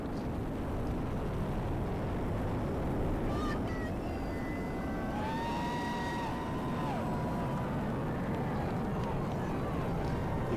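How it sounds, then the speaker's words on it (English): The 27 engines of a SpaceX Falcon Heavy rocket roar continuously during ascent, carrying the GOES-U weather satellite, a broad distant rumble that stays steady while a voice talks over it. "All 27 engines powerfully lifting GOES-U on its trajectory and ascent into space."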